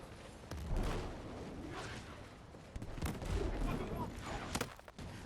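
Battlefield 6 combat with bursts of gunfire and booming explosions at moderate distance, sharp cracks scattered over a rumbling battle backdrop, with faint voices underneath.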